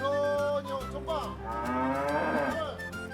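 A cow moos in a long, drawn-out, wavering call, loud and close, over a sustained musical background.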